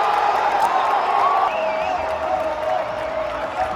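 A football crowd at a World Cup match roars and cheers after a goal, a dense, loud wash of voices with some clapping and whoops, and a louder burst near the start.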